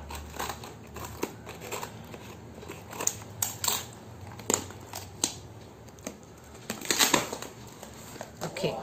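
Scissors or a blade slice through the packaging of a Kindle Paperwhite 10th Gen, with a run of close, sharp snips and crinkles spread irregularly over several seconds and a quiet voice now and then.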